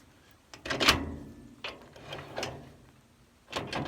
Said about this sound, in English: We've just got a standard jockey wheel.